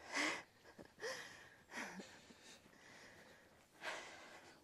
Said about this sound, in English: Can you edit out me puffing and panting?